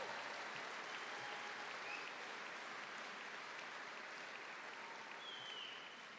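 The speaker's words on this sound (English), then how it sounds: "give these graduates, these initiates, another big round of applause" Audience applause for engineering graduates at a recognition ceremony, a steady even wash of clapping from a large crowd that holds for about six seconds, quite faint, tapering slightly at the end, with no voices.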